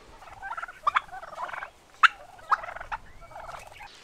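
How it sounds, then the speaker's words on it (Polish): Turkeys on a village farm in Uzbekistan gobble in repeated bursts, several warbling calls rising and falling over a few seconds at close range with no talk. "Chodź zobaczymy indyki. Dziwny dźwięk robią, nie słyszysz?"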